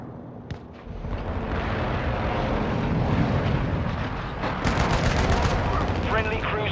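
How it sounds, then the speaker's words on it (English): Call of Duty: Modern Warfare II combat plays out as a continuous roar of airstrike aircraft and heavy gunfire, with loud crackling bursts and a sharp crack near the start. "Friendly airstrike in the AO."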